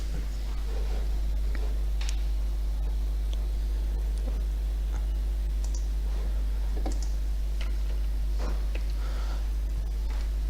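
Computer mouse clicks, sparse single taps at uneven intervals, close and quiet over a steady low electrical hum.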